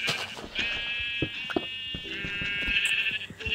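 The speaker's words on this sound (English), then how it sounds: "Sheep." Sheep in a video game bleating several times in a row, wavering nasal calls close up, with light clicks and game sounds between them.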